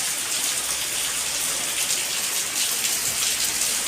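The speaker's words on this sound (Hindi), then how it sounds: "ये देखिए बहुत तेज बारिश आ रही है," Heavy rain pours down continuously, a dense, loud hiss of drops striking surfaces with no pauses.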